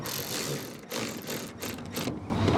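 Screws being driven into a replacement tail light lens on a 1994-2002 Dodge Ram, giving a close, steady ratcheting and mechanical clicking that carries on through the short stretch without any talk.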